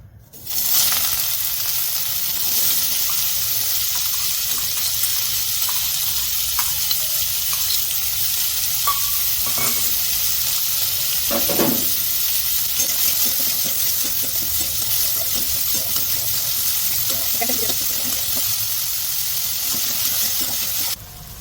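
Chopped onion frying in a pan, a constant loud hiss of hot oil filling the whole stretch, with a few faint clinks and scrapes of stirring now and then.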